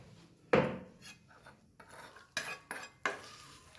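A spoon mixes aloo paratha masala in a bowl, with a few sharp scraping knocks and stirring scrapes against the dish, close and quiet, with no talk.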